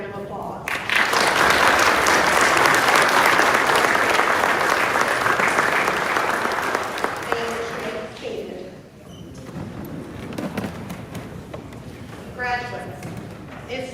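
A graduation audience at Baytown Christian Academy gives families a loud, sustained round of applause that swells, holds for several seconds, then thins out as scattered voices and a few stray claps remain.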